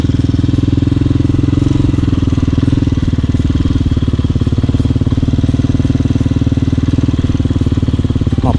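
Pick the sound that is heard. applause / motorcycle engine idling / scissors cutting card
motorcycle engine idling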